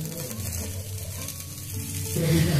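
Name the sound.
atlu batter frying in oil on a pan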